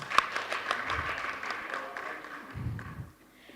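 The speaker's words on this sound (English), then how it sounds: "The round of applause" A modest round of applause from attendees at an African radiation oncology scientific conference, scattered clapping at moderate distance, fairly quiet and fading after a few seconds.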